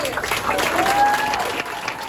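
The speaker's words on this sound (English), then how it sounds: "Let's give her another round of applause." Audience applause for a newly recognized mayor at a public ceremony, a steady wash of clapping filling the room with some voices and a faint whistle-like tone rising over it.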